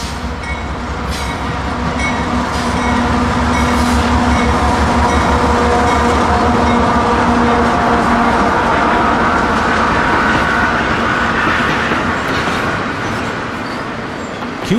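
A CSX GE AC44CW diesel freight locomotive rumbles past close by, a loud continuous roar with rattling cars and faint wheel squeal, no voices.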